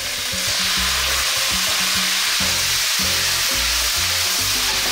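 Asparagus and bacon with celery leaves, salt and pepper sizzle loudly in a hot pan as soy sauce is poured around its edge, a steady close hiss over soft rhythmic low thumps.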